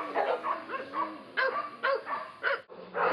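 Rescued pitbulls in rows of kennels bark repeatedly, a string of loud, close barks and yips with short pauses and whimpering between them.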